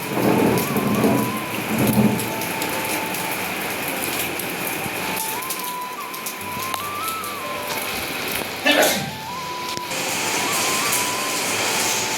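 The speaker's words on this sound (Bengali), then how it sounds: "9টার থেকে বৃষ্টি শুরু হয়েছে" Heavy rain pours steadily with rolling thunder rumbling underneath, while a faint tonal sound rises and falls intermittently in the background.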